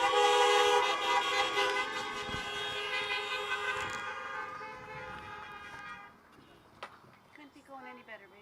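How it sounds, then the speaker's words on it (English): Several car horns honk together in a loud, sustained chorus of overlapping toots at a school graduation drive-by celebration, fading after a few seconds to scattered short beeps and quieter background noise. "Let's give her our honk of approval."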